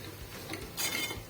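A spatula scrapes and clinks against a pan while grated coconut is stirred and roasted with browned onion. The strokes are brief and soft, close by, with no talking.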